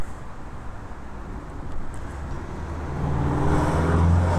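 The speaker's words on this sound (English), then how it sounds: "That's a nice Porsche." Porsche car passing on a road, a broad engine and tire rumble swelling steadily louder as it approaches, with no one speaking.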